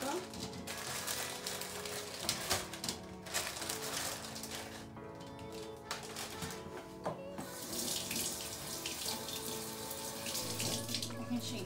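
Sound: grapes being washed under running tap water

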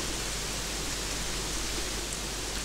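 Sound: heavy rain in the video game Gothic 3

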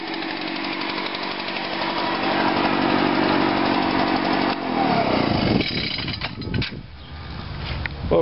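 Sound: lawn mower engine running and backfiring

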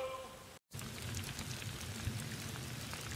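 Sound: rain starting to fall

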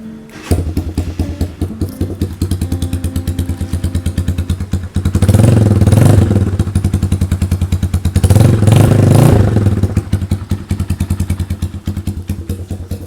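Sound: GPX Legend 200 motorcycle engine starting with key

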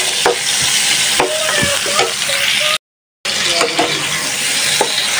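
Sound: sautéing spice paste with onion and tomato in a pan

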